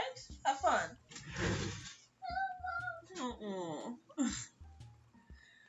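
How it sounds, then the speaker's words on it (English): A stray cat meows several times up close, its cries rising and falling, while a voice talks over and between the calls. "This cat just shows up."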